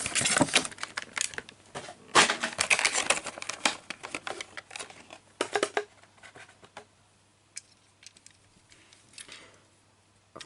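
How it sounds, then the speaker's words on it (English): A box package being cut open by hand, with bursts of crinkling plastic and cardboard scraping and rustling, loudest early on and then thinning to sparse faint handling noises. "You have to see me cutting this open."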